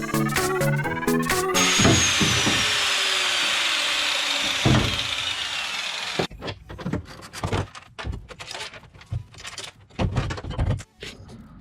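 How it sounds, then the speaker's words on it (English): A power tool cuts out a stock steering column, with a loud sustained whine followed by choppy bursts of cutting and rattling metal in an otherwise quiet garage. "I'm gonna cut the stock steering column out"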